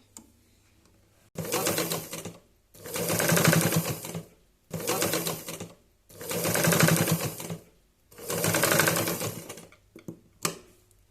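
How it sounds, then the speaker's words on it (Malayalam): Sewing machine stitching around the four sides of a cotton face mask, running in five bursts of rapid, steady mechanical whirring and needle clatter, each a second or two long, separated by short pauses with soft handling clicks. "ഈ ചുറ്റും 4 വശവും ഒന്ന് കൂടെ തന്നെ അടിച്ചെടുക്കുകയും കൂടെ ചെയ്യണം"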